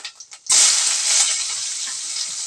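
Whole spices, a bay leaf, cinnamon, cloves and fennel, with onion, hit hot oil in a pan and burst into a sudden close, loud sizzle that settles into a steady frying hiss, preceded by a few faint knocks.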